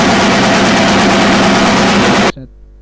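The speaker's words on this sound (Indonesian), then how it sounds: "ini adalah mesin offset lembaran" A sheet-fed offset printing press runs with a loud, dense mechanical clatter and hum, then cuts off abruptly near the end, leaving a brief faint tail.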